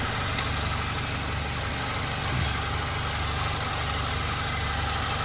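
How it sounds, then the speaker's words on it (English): A 2015 Honda Accord with a CVT transmission idles steadily nearby, a constant low rumble and hum with no changes in pace and no voices. "so the car is running"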